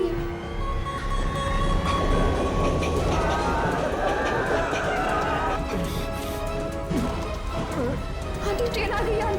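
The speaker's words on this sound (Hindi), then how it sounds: "ट्रेन इस तरफ आ रही है।" A train approaches with a continuous rumbling, clattering roar that grows more prominent over several seconds while voices talk over it.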